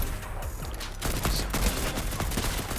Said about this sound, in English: Somebody's shooting me right now.